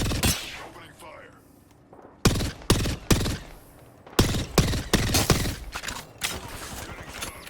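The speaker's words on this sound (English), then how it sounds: "Opening fire." Automatic weapon fire in the battle royale shooter Apex Legends, loud close bursts of several shots each in an uneven rhythm, with a quieter stretch of game ambience before the shooting starts.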